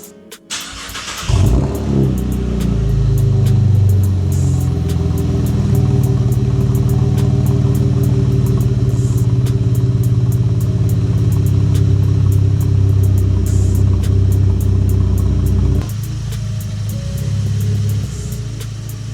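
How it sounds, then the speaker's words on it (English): A Chevrolet Camaro engine fires on a cold start and settles into a loud, deep, rumbling idle close by, holding steady for most of the clip before it drops off near the end. "let me get a cold start for y'all"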